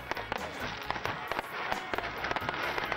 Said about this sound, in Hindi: आपने पेशावर की आतिशबाजी देखी